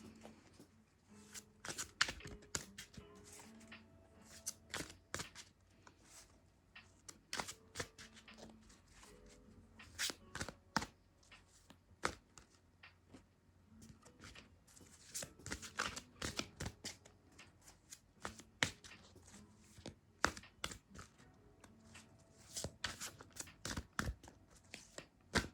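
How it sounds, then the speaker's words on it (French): Tarot cards being shuffled and drawn by hand, close and quiet, with irregular bursts of riffling and soft slaps of cards scattered across a low background. "J'ai envie de tirer d'autres cartes quand même."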